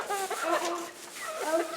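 Chickens clucking inside a coop, several short rising and falling calls in two bursts, fairly close and clear, with a few faint background sounds between them.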